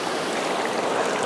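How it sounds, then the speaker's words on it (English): A shirt is dipped into ocean water on Prince Edward Island, giving a brief, close, steady sloshing and splashing wash of water with no talk. "dip it into some fresh ocean water"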